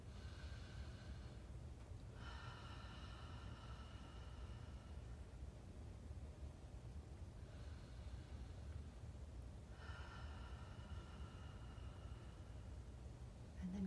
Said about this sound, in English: Take a few open mouth exhales.